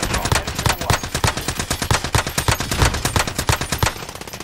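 Automatic gunfire in Call of Duty Warzone on Rebirth Island, a loud, steady stream of rapid, evenly spaced shots lasting about four seconds before tapering off.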